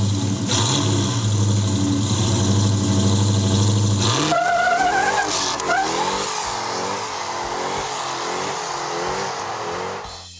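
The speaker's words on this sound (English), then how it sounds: "First gear, second, there's the supercharger kicking in." Car with a supercharged Hellcat 707-horsepower crate engine and six-speed manual transmission accelerating hard, its loud engine note rising through first gear, dropping at a shift, then climbing again with supercharger whine layered over the revving.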